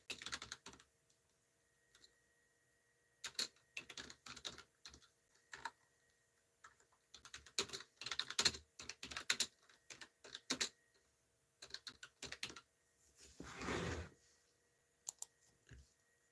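Keys clatter on a computer keyboard in a quiet basement room, coming in irregular bursts of quick taps separated by pauses, close and fairly soft.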